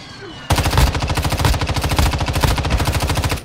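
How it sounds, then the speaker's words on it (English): Rapid, evenly spaced blasts from a friendly airstrike in Warzone on Rebirth Island pound away loud and close, a dense rolling barrage that starts abruptly and keeps hammering without a break. "Friendly airstrike in the AO."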